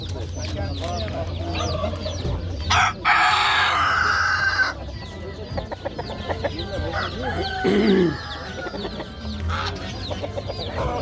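At the Jomashuy poultry market a rooster gives a loud crow close by while hens and other fowl cluck steadily around it. Market voices and background chatter run underneath.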